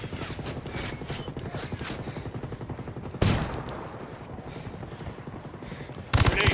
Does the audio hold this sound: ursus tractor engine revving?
no